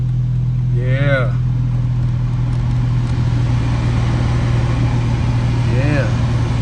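A Nissan Sentra AC heater blower motor runs with a steady, constant hum and airy rush, close and unchanging, while a voice speaks briefly twice over it.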